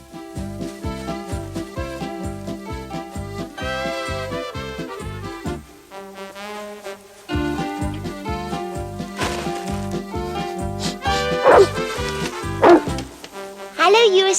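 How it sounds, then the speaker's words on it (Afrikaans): A cartoon dog barks and whimpers in a hayloft, with short yelps rising over a rhythmic musical score and voices speaking nearby. "Dis nou die tweede keer dat jy jou neus in my hooi steek en blaf."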